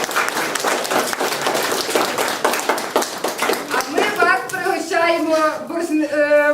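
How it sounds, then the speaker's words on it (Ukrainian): Audience applause at a library carol-singing event, a dense wash of clapping; about two-thirds through, a voice starts singing over the clapping as it carries on. "давайте подякуємо їм аплодисментами"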